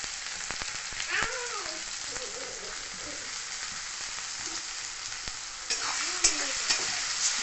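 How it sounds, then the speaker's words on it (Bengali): Onion and tomato fry in a pan for a rui posto dish, a continuous sizzle broken by occasional scrapes of stirring, with a brief rise in frying noise toward the end. "ভালো করে ভেজে নেব।"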